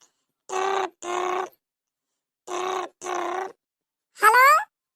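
A telephone ringback tone as a call is placed, two pairs of buzzy rings separated by a pause, clear and alone, followed by a brief rising tone.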